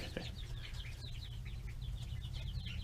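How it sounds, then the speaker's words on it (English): Young chicks and ducklings under a heat lamp, peeping in rapid high chirps all through the clip over a steady low hum. "a little update on how the chicks and ducks are doing"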